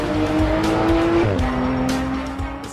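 A 2018 Porsche 911 GT3 RS on a track takes a fast right-hand bend, its loud engine holding a high steady note before dropping after a shift, with tyre noise close by.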